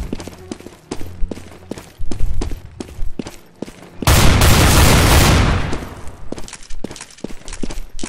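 Gunfire in Counter-Strike: Global Offensive on the Motel map, with sharp repeated shots scattered throughout and a louder, sustained burst of blasts in the middle before returning to spaced cracks.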